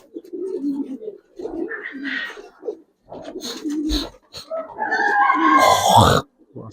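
Large Giribaz army pigeons with silver necks coo in soft, low, throaty bursts, close by, with a few pauses and louder calls near the end.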